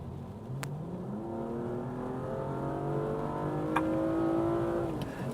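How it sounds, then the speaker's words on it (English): A six-cylinder engine in a 2017 BMW M235i coupe revs up and climbs in pitch, holding a rising growl before easing off, with a couple of faint clicks along the way. "So it's 6-cylinder engine, it's got plenty of performance"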